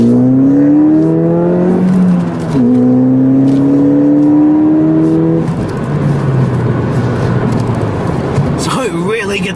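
A 2016 Ford Fiesta ST with about 200 horsepower accelerates hard in a straight line. Engine note climbs steadily through a gear change, loud and close from inside the cabin, giving way to road and wind roar near the end.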